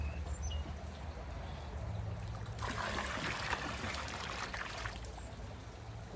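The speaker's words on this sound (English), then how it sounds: "And then we're going to add the liquid chlorine into the pool." Liquid chlorine pours into a swimming pool with a steady splashing trickle that grows louder midway, then eases back to a quieter wash of water.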